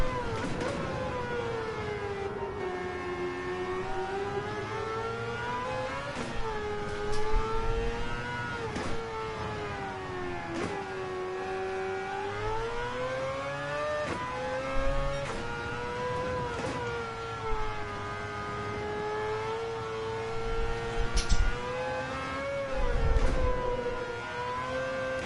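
A racing car engine in a video game revs and shifts, its pitch sweeping up and down in smooth waves over a steady drone, moderately loud and continuous with occasional bumps.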